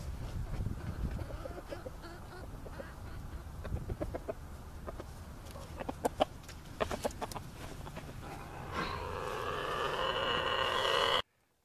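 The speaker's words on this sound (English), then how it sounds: "the Little Rooster is cock-a-doodle-dooing" A game fowl rooster crows near the end, with a loud, harmonic, drawn-out call after scattered clucks and rustling in a farmyard setting.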